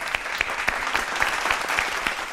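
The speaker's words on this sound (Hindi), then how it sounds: "दुआ के लिए बहुत बहुत तालियां" Studio audience on a Pakistani game show claps steadily, a dense, continuous patter of many hands with a few sharper accents, close and bright, with no speech over it.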